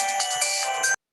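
A phone ringtone plays a bright, steady electronic tone for about a second before cutting off abruptly into silence.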